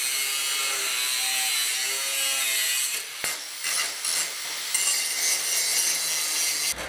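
A saw cuts pieces from scrap steel angle iron, a steady, loud, bright grinding rasp that runs on without a break and shifts slightly in tone partway through.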